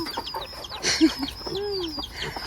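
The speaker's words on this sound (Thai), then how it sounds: "ไก่กระซับอยู่บนเนี้ย" Chickens cluck in a rural Lao farm setting, with a few short, fairly close clucks around the middle of the stretch. Faint background bird chirps and outdoor ambience run underneath.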